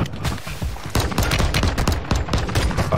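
Rapid video-game gunfire from a Lachman 556 assault rifle, loud and close bursts of shots in quick succession filling the whole stretch, with no talking.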